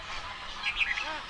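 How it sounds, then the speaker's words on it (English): Migratory birds wintering in the marshes of India, a brief burst of high, squeaky calls and honk-like notes over a steady outdoor hiss, moderately near. "The birds have escaped the approaching icy winters in their faraway homelands."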